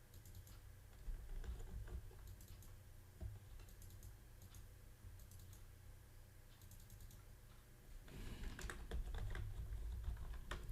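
Quiet, rapid tapping on a computer keyboard while designing in Figma, steady light keystrokes with a short pause, then a busier flurry of clicks toward the end.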